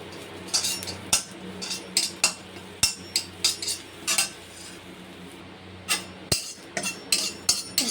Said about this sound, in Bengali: ভাজা ভাজা হয়ে যাচ্ছে